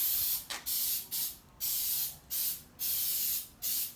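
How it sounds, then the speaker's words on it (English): An aerosol spray can hisses in repeated short bursts, roughly half-second sprays with brief gaps between, close and steady, spray-painting a custom swing-out tire carrier. "I'm going to give this a good coat"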